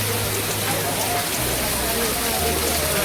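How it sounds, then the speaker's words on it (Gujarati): Heavy rain pouring down near a seaside temple, a loud continuous hiss of drops drumming on surfaces that fills the whole stretch without pause, with a low rumble and faint voices underneath. "એટલે વરસાદ શરૂ થયો છે."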